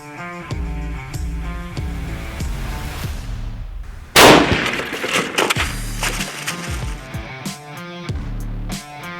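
A single loud, sharp gunshot cracks out midway as a Hammer hollow point bullet is fired into a ballistic gel block outdoors, set against a steady background of rhythmic music.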